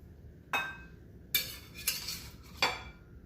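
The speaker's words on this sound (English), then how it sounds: "I'm gonna plate out, scoop from the bottom right there, right in the center" Tortelloni with asparagus in butter sauce scooped from a pan onto a plate. Four distinct metallic scrapes and clinks of a utensil against cookware ring out close by, each separated by a short pause.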